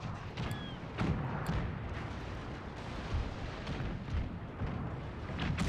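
Rolling, overlapping cannon fire from warships in the Napoleon Total War video game, repeated booms and bursts sounding over a dense, steady battle roar without pause.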